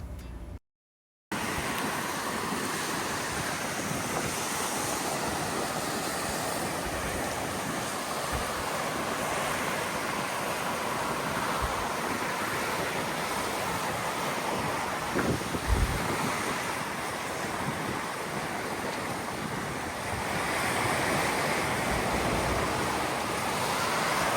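Ocean surf washes continuously onto a public beach in Chelem, Mexico, a steady broad rush of waves mixed with heavy wind buffeting the microphone, with no voices heard.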